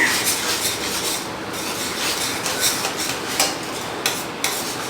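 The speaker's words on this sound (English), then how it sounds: "Mix it well." Fish marinade stirred with mixed herbs and pasta mix, giving steady wet scraping and rubbing with faint clinks of utensil against bowl, close and continuous with no talk.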